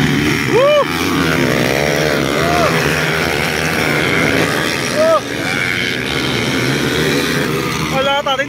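Enduro racing motorcycle engine during a local heat, loud and continuous with revving pitch swings, blended with crowd noise and excited talk.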